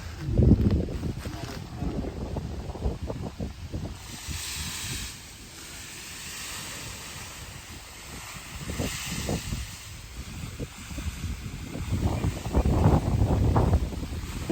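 Strong wind blows in gusts across an open rural field, a buffeting roar that swells, eases in the middle and rises again, with people talking under it.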